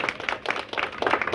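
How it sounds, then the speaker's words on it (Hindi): Students applaud in a classroom: a short, loud burst of mixed hand claps from a group, steady and dense for just over a second with no voices over it. "देखो जोरदार ताली होना चाहिए फिर से।"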